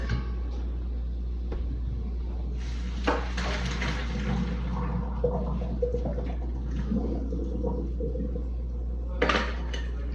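Boiled potatoes are drained from a pot in a kitchen, with a steady pour of water under clinks and clanks of the pot and metal utensils. Moderately close, with no talk.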